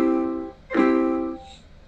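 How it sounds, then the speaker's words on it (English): A single soft ukulele up strum played with the padded part of the index finger, a gentle chord ringing briefly after a preceding strum fades, close and quiet with no talking. "to play the up strum, you want to use the padded part of your index finger"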